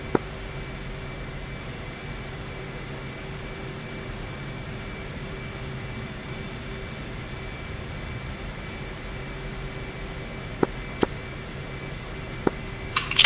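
An F/A-18C jet taxiing in the DCS combat flight simulator gives a steady, even engine whine and hum with a few faint clicks near the end, and no voices.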